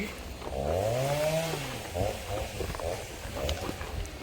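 A voice imitates a chainsaw cutting down trees, a rising and falling buzzing drone followed by rougher revving bursts, loud and close.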